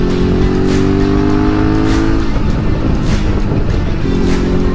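A 2019 Suzuki V-Strom 650 motorcycle engine drones steadily under heavy, continuous wind rush on a winter road, its pitch sliding as the revs shift, loud and close throughout with no talking.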